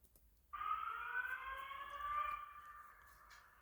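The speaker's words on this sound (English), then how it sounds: "the speaker strobe keeps doing the 2 whoops at the same time, so it will keep going" A fire alarm speaker strobe sounds a loud electronic whoop tone that starts abruptly and sweeps upward, sustained for a few seconds before tailing off, heard alone.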